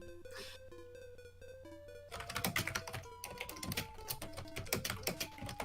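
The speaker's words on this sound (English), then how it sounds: "Well, now you can hear me typing." Quick, busy clicks of typing on a computer keyboard during a livestream, starting after about two seconds under tonal game music that plays throughout.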